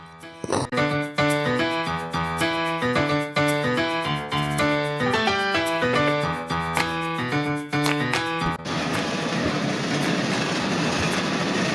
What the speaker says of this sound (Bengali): ট্রেনটি রামু স্টেশন ছেড়ে গেল